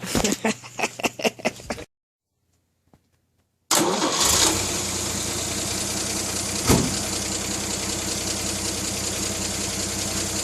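A Chevrolet Styleline car engine cranks in several rapid rhythmic bursts, goes quiet for a moment, then catches and settles into a loud, steady idle close by.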